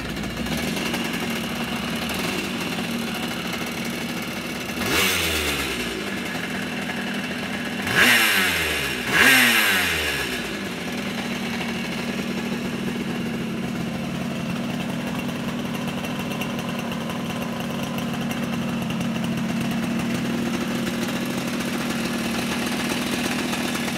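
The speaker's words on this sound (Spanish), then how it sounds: "Vamos a entonces a proceder a ponerla en marcha. Y escuchemos este exquisito sonido de los 2T." A Yamaha two-cylinder two-stroke motorcycle engine idles steadily with a nasal buzz, blipped in a few sharp revs early on before settling back to a continuous close idle, no voices.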